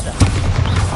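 A Bombarda spell blast in Hogwarts Legacy on PS5 goes off as a loud, close booming burst with a sharp onset and a rumbling low tail.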